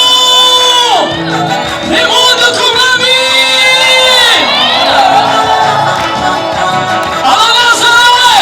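A worshipping congregation at a gospel dance celebration cheers, whoops and shouts loudly and continuously in a dense, close crowd roar, with voices rising in waves.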